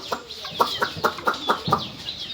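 A rooster clucking in a quick series of short, close calls with a bird chirping faintly in the background.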